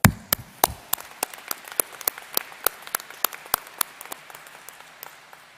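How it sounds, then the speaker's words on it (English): Sparse, distinct claps at a college commencement ceremony, roughly twenty separate sharp hand claps at an irregular, slowing pace, close and isolated rather than a full ovation. "I think you all deserve a big round of applause."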